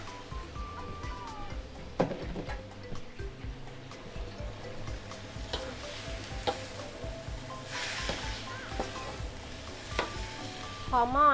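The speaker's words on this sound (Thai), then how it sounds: "ทอดปอเปี๊ยะไปเลยค่ะ" Spring rolls fry in oil, making a faint, low, steady sizzle with occasional bubbling pops and light clinks over several seconds, heard from some distance.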